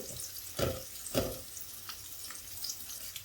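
Coconut pieces frying in a pan for aval banana payasam give a steady close sizzle, broken by two louder scraping bursts of stirring early on.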